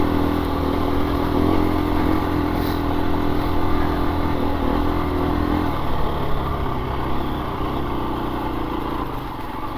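A 2024 KTM 350 EXC-F dirt bike engine runs steadily under load while riding, a loud continuous four-stroke drone with a low lugging note that shifts slightly in pitch midway, close and dominant throughout.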